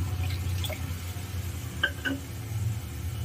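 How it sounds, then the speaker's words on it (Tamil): Tamarind water is poured into a cooking masala, giving soft liquid trickles and a few distinct drips and splashes over a low steady background hum, with no talk. "இதில் 1 கப் அளவுக்கு புளி தண்ணி கரைச்சி வச்சுருக்கிறேன், அதை ஆட் பண்ணிக்கிறேன்."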